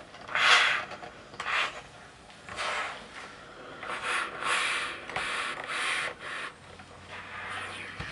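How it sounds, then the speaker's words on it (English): Fabric being ironed for pinch pleat curtains before fusible buckram goes in: soft, close rubbing and sliding swishes come in irregular bursts, fairly quiet, with no talk. "I'll iron it."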